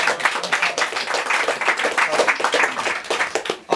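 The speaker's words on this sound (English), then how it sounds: "let's give a round of applause to Ned for allowing us to host here" A group at a meeting of organic farmers in Hawaii applauds the host, close and lively clapping from a modest crowd with individual claps distinct, continuing steadily throughout.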